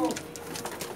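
Vaishi breed pigeons coo softly on a rooftop in Jeddah, faint murmuring calls under a voice speaking nearby.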